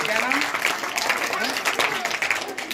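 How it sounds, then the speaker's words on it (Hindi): A group claps for Radha at a school felicitation ceremony, with steady, fairly close applause running under an adult's raised voice. "राधा के लिए जोरदार तालियां दी।"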